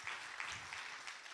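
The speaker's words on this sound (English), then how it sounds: "Let's give another round of applause" Brief audience applause at a church gathering, a faint, steady wash of many hands clapping, distant and soft throughout.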